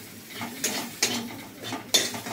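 Watermelon rind frying in a little oil with ginger and green chilli, a soft sizzle broken by sharp scrapes and clinks of a spatula against the pan, alone without talk.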